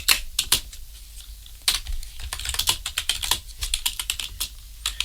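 Someone types C# code on a computer keyboard in quick, irregular bursts of close clicking keystrokes, with no talking.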